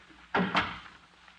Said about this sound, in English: Now shut the door and come in.